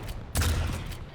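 A direct rocket hit lands in a fast arena shooter duel, a sudden low boom at about a third of a second with a rumbling tail, over steady game noise and distant weapon fire.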